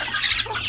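Chickens cluck in a brief, busy burst while pecking at new feed on a farm. The sound is close and fairly loud, with overlapping calls.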